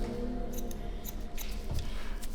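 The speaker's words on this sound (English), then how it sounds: "when you're cutting with scissors," Scissors snip damp hair in a barbershop during a low skin fade cut, making a few faint, crisp snips spaced closely over a low background hum.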